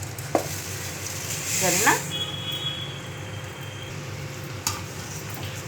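Vermicelli (semiya) dropped into hot oil for upma, a steady sizzle with a rising burst of frying, occasional utensil clinks, and someone speaking briefly over it.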